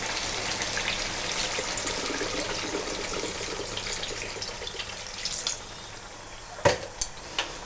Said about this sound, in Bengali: এবার এর মধ্যে আমরা জল দিয়ে দিচ্ছি।